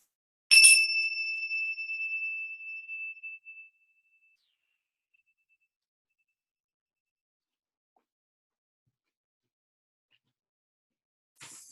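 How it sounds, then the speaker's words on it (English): A single meditation bell strike rings out clearly in a children's mindfulness class, its pure tone slowly fading over a few seconds into long silence, then another faint strike begins at the end. "Listen for the bell."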